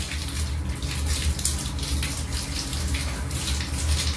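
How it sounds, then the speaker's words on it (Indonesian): Water runs steadily from an opened tap for handwashing, a continuous close splashing hiss with no talk over it. "Langkah pertama saya akan membuka keran air"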